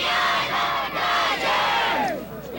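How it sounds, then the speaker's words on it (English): A high school football crowd in the stands during Dodgeville vs Platteville roars and yells continuously, a loud dense mass of voices that swells and dips slightly without letting up. "Crowd's pumped, that's for sure."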